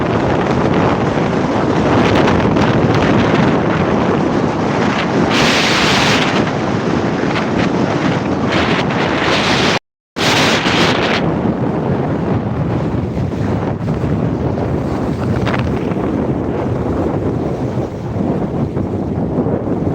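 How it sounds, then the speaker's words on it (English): Strong coastal wind at Fortaleza, Ceará, roaring and buffeting loudly and continuously against the microphone, with a brief cut partway through and a possible wash of surf beneath. "the wind here is very strong"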